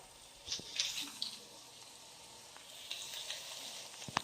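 Whole spices, including cinnamon sticks, sizzling in hot oil in a pot while chicken kabsa is being cooked: a soft, steady crackling fry with a few brighter pops and spatters close by.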